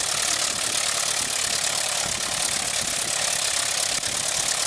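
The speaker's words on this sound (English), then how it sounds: "especially my good friend Greg Cohn, who built that engine. Exactly like the Wrights built theirs" Engine of a replica 1909 Wright Military Flyer, built exactly like the Wright brothers' original, runs as a loud, steady, rough roar with a dense mechanical clatter and no break throughout.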